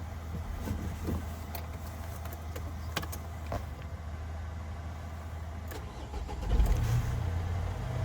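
A 2014 Nissan Primastar van's 2.0-litre engine turns over and catches near the end, settling into a low idle after several seconds of quiet clicks and rustling.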